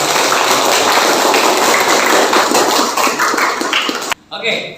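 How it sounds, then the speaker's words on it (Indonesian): Students in a classroom clap together after a physics lesson on electric current, a loud dense burst of hands clapping with voices mixed in, cutting off abruptly near the end. "tepuk tangan untuk kalian ya yang sudah"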